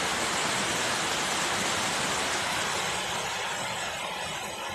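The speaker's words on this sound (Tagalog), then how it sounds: "Ang baha dito gikan, grabe kusuga guys." Strong floodwater rushes past near a chapel, a loud, unbroken roaring wash of broadband noise that fills the whole clip without pause.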